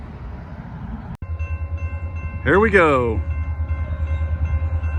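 A short freight train approaches on a railroad line near a bypass track, with a steady low rumble building. A loud horn blast sounds midway. Someone speaks briefly at the start.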